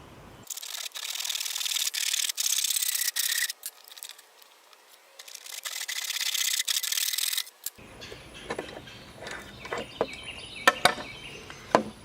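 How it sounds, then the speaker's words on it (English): Handsaw cutting halfway through a clamped plastic piece for a DIY worm tower, heard as steady rasping strokes up close, broken by brief pauses, then lighter scraping and knocks as the piece is handled and flipped. "I'm going to cut halfway through this and then flip it around."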